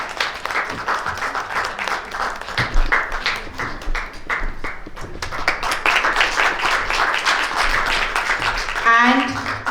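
Event attendees clap during a felicitation ceremony, a lively stretch of irregular applause with distinct close hand claps, and a voice briefly cuts in near the end.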